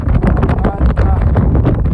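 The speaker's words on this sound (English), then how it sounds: "It's just getting too windy up here." Heavy wind buffeting the microphone, a loud continuous low rumble and roar that swamps everything, very close.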